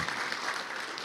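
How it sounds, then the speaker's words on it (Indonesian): An audience at a leadership conference on organizational transformation claps together, a brief dense patter of applause at moderate level, steady from start to finish. "Woi tepuk tangan sekali lagi untuk Anda semuanya."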